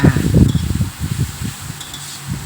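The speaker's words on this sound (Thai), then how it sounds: "ผัดให้เข้ากันค่ะ" Fish balls and minced pork are stirred in a wok for a holy basil stir-fry, producing a soft sizzle with irregular scraping and tossing strokes, loudest at the start and then easing, with no talk.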